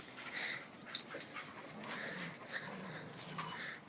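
Puppies playing roughly together, giving steady whimpering, snorting and wheezy breaths at close range, a continuous scuffle of small canine noises without pause through the stretch.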